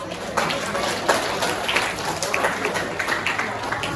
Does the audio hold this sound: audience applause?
yes